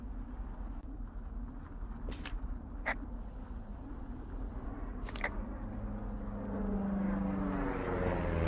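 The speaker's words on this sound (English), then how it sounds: "You see that plane?" An airplane flies overhead in the Firewatch video game, a low droning engine rumble that swells steadily louder toward the end over quiet outdoor wilderness ambience with a few bird chirps.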